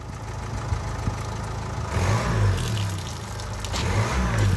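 Renault Symbol engine revved lightly in short bursts, exhaust spluttering out water, with the idle rising into a couple of louder surges up close.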